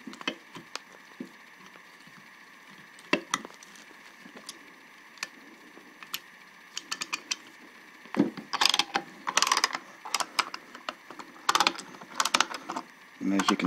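A Lang Tools 279 brake caliper press is backed off by its cam, giving scattered close metallic clicks and ratcheting rattles, with louder clanking bursts toward the end and a voice talking in between.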